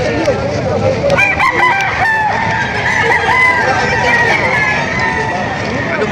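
Several roosters crow repeatedly at a livestock auction market in Padre Garcia, Batangas, loud and close, with clucking hens and a murmur of people talking in the background.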